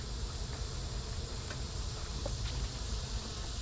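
Honey bees at an open beehive being worked with a smoker: a steady, dense outdoor buzz of many insects that holds at one level throughout, with no voices.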